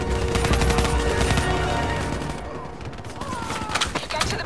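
Dense rapid gunfire in the video game Call of Duty Black Ops 3, loud overlapping bursts and clatter thinning toward the middle, then renewed sharp shots near the end.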